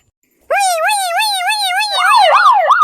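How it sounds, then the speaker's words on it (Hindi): A police siren starts abruptly, wailing in a steady rising-falling pattern, then shifts to a faster, louder yelp near the end; close and loud. "सर सायरन चलने दो ये चालू किया"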